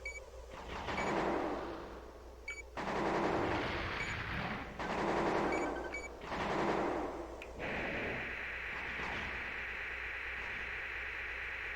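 Armored Core on PlayStation: heavy mech weapon fire booms in four swelling, roaring bursts, then settles into a steady hissing rush, loud and close, with no speech.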